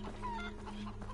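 Chickens cluck in a war-themed video game, with several short, close clucks and squawks in quick succession over steady background game noise.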